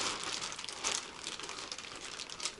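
A plastic package, sealed with a drawstring tie, crinkles and rustles continuously as hands handle it and begin tearing it open, a dense close-up crackle with no talking.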